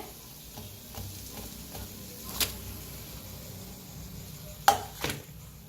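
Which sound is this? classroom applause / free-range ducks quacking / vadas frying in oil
vadas frying in oil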